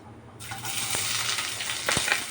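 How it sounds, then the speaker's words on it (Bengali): Dried red chillies and a whole onion frying in hot oil, a sudden rise into a bright continuous crackling sizzle with a couple of sharp pops, close and without talk. "শুকনো লঙ্কাগুলো একটু লাল লাল হয়ে আসবে"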